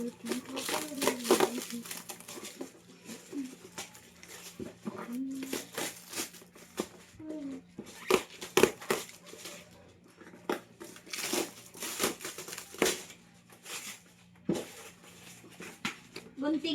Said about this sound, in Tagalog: Huwag mo punitin ng carton, ha?